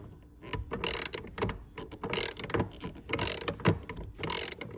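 A hand ratchet with a T50 Torx bit cranks out a Loctited seat bolt in a 2019+ Chevy Silverado, sending out repeated bursts of close, crisp clicking separated by short pauses.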